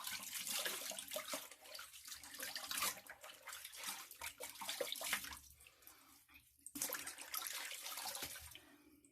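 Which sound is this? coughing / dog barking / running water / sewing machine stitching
running water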